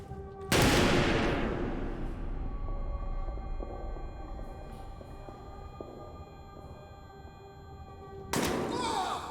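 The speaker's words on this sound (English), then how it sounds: "Come over here so I can shoot you." Gunfire in the survival horror game Amnesia: The Bunker, two loud, sharp blasts about eight seconds apart, each with a long ringing decay, a low hum and faint clatter between them, and someone talking.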